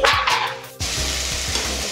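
Chopped onion and tomato sauté with curry leaves in hot oil for a Chettinad country chicken dish, giving a steady close sizzle with soft stirring scrapes after a brief louder burst at the start.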